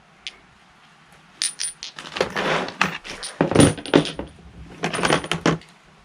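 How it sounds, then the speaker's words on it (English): Metal sockets and bits pour out of a cordless impact wrench case, clattering and jangling in several bright bursts against each other and a hard surface, close and fairly loud. "we've got your sockets and attachments. I'm gonna just pour it out and show you"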